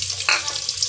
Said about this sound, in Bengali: তেলটা গরম হয়ে গেছে, দিয়ে দিব পেঁয়াজ।